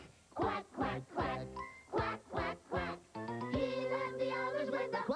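Voices imitate a duck, singing a run of rhythmic quack-quack-quack sounds in a children's song, about six evenly spaced quacks followed by a sustained sung note with musical backing.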